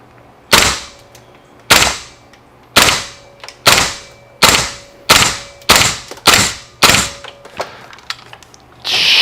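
A KWA LM4C gas blowback airsoft rifle fires about ten sharp, loud single shots at a steady, roughly one-per-second pace, each with a quick decaying report, close and alone.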